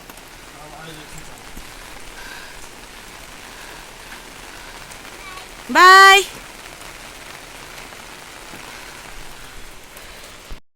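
Heavy rain falls at a house, a steady hiss of drops on surfaces that runs the whole time, and a voice calls out loudly for a moment partway through.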